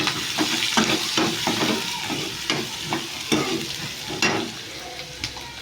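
Chopped onion sizzles in hot oil in a pan for dal khichdi, with a spoon stirring and scraping in irregular bursts, close and moderately quiet.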